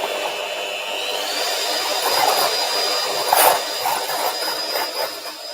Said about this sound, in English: I've got my 1 egg white, which I'm going to whisk exactly like I did for the cake